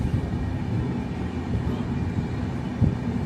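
The Kurla Express, a Mumbai–Coimbatore passenger train, rolls out of Bangalore Cantonment station with a steady low rumble and faint clatter of wheels heard from on board.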